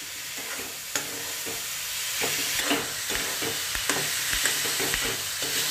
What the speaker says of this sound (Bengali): খুন্তি দিয়ে নাড়িয়ে পুরটাকে তৈরি করে নেওয়া হচ্ছে।